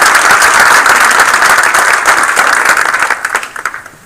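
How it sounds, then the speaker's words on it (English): Loud applause from the audience at a township council meeting, a close, dense burst of clapping that holds strong then thins and fades out over the last second. "give these people a nice round of applause"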